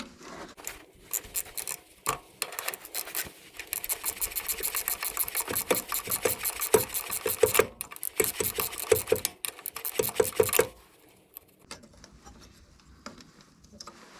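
A ratcheting wrench loosens a bolt on a 2008 Toyota Tundra, making rapid rhythmic clicking in long bursts with brief pauses, close and fairly loud before stopping abruptly.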